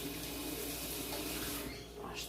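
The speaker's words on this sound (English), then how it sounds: "Wash the hands again, even though I'm going to get them messy." Hands are washed under a running kitchen tap during pot roast preparation, a steady close hiss of flowing water that lasts the whole brief moment.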